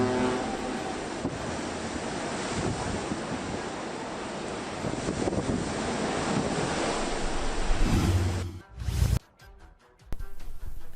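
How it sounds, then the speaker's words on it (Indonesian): Loud, roaring surf from large storm waves around a cruise ship, with heavy wind noise buffeting the microphone continuously, a brief dropout near the end before the rush resumes. "kapal pesiar berlayar menghadapi badai dan ombak besar"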